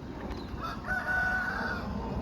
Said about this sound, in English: all of a sudden you get all the chickens and roosters and everything